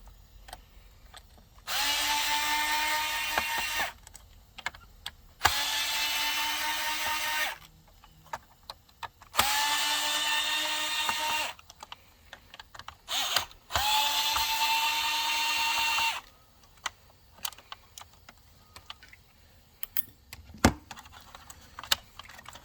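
A power screwdriver whirs in four separate bursts of a few seconds each as it backs out the screws on a Roomba S9 front bumper, with quiet handling clicks in the gaps.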